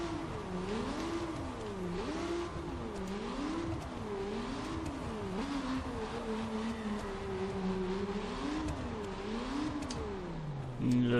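A car engine in The Crew racing game revs up and down in repeated rising sweeps as gears shift, a steady, prominent whine with rhythmic pitch climbs and drops throughout.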